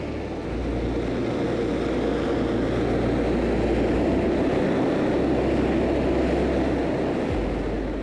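A Rafale multi-role fighter jet produces a loud, steady, broadband engine roar that holds nearly constant throughout, with a low droning rumble underneath and no voices.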